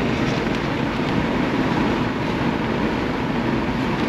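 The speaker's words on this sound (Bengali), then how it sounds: "এই যে আমরা ট্রেন আর আমার গাড়ি কে আগে যায়" Indian railway train running on a track in Bihar, racing alongside a Mahindra Scorpio, heard as a dense, steady roar of wheels and wind from close by inside the moving car, with no talk.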